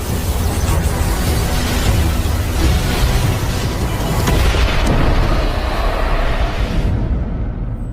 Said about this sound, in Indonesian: Roh ular ungu Ratu Medusa meledak setelah dia menyatukan dirinya dengan pusat energi tadi.